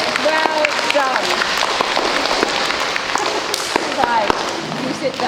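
Audience clapping at a Year 1 school assembly for number certificate winners, a steady crowd of hands filling the room with children's voices and chatter mixed in.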